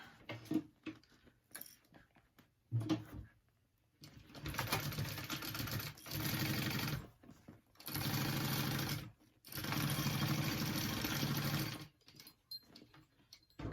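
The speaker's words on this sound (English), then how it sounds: "So we're just gonna top stitch that closed." A sewing machine top stitching a sling backpack runs in several bursts of rapid, even whirring, separated by quiet pauses with small handling clicks.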